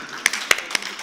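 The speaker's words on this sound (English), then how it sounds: "And then clapping" Hands clapping in a slow steady rhythm during a worship service, four distinct claps about a quarter second apart, fairly close and moderately loud over faint room tone.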